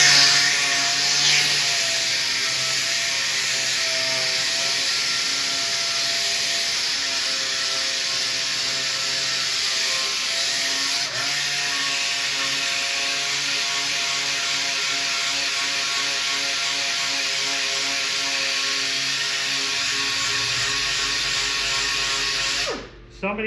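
A gas pedal base plate from a Pole Position arcade machine being sanded, a continuous loud whirring, buzzing grind that holds steady before cutting off abruptly near the end.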